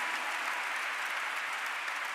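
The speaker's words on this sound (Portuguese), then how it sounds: "Vamos aplaudir o único que viverá para sempre, que permanecerá para sempre." A large crowd at the Dunamis Con 2024 church conference applauds in a steady, loud, unbroken wash of clapping that fills the whole moment.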